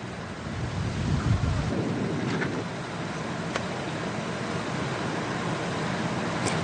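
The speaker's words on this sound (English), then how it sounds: "blanketing the region in torrential rain and bringing record-breaking winds" Torrential rain and strong typhoon winds of Typhoon Koinu roar in a dense, steady wash, with a low rumble early on and a few sharp cracks above the constant downpour; no voices.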